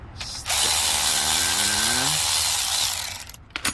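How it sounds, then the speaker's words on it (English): Electric ratchet removing differential brace bolts on a Nissan 370Z or Infiniti G37, a loud, close, continuous whirring buzz lasting about three seconds with a rising pitch before it cuts off. "So you already know I have my electric ratchet."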